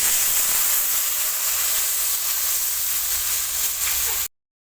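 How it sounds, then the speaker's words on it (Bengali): Spice paste of chilli powder and garlic paste sizzles in hot oil after a splash of water is added while cooking Bengali tangra fish curry, a loud, steady, close hiss that cuts off abruptly at the end. "একটু জল দেবো মশলায়, নাহলে পুড়ে যাবে মশলাটা।"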